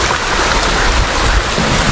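Water surges hard through a channel at a pond where tilapia and prawns are caught with a cast net, a loud, steady broadband rush with no pauses and no voices.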